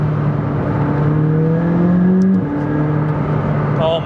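A McLaren 600LT engine accelerates hard from onboard, a loud steady drone that climbs in pitch, drops abruptly at a gear shift, then rises again.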